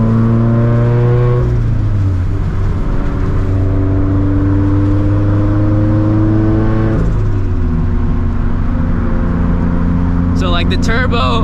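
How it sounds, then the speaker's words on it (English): A high-compression turbocharged project car revving as the turbo spools, its loud engine drone rising and falling in pitch through gear changes, heard from inside the cabin with a brief whistle near the end. "it starts to spool instantly in this thing, man, because it's a high compression motor"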